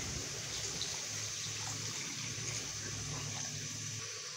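Water pours into a cooking pot of spiced fried peas for matar pulao, a steady close splashing gush running continuously without voices.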